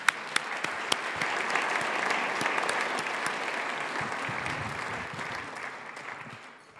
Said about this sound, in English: So now, let's applaud.